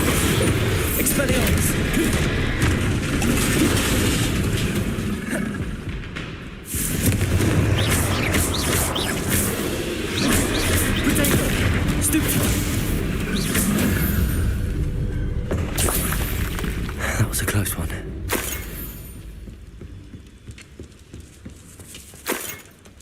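Spell explosions such as Confringo and Bombarda in the video game Hogwarts Legacy, loud booming blasts and impacts over dense battle noise, with brief gaps between bursts and some talking.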